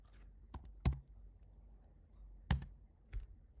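Sparse keystrokes on a computer keyboard, a few isolated taps and double clicks spread out over a few seconds, quiet and close with no talk.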